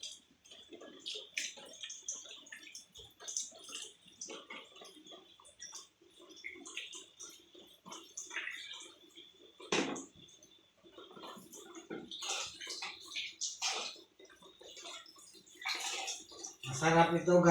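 Tap water runs and splashes while fresh garden cucumbers are washed by hand for pickling. The splashing is steady and uneven, and someone talks over it throughout.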